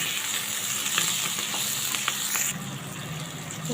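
Drumstick leaves with turmeric and ginger-garlic paste sizzle steadily in a hot pan, with close scraping stir strokes marking a loose rhythm before the frying hiss shifts slightly and carries on.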